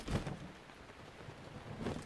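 Rain falling during a hillside thunderstorm in the game Zelda Breath of the Wild, a quiet, steady hiss with soft low rumbles swelling near the start and end.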